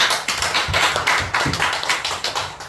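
A church congregation claps together during a Sunday afternoon worship service, a rapid, dense patter of many hands that keeps going steadily throughout at moderate loudness.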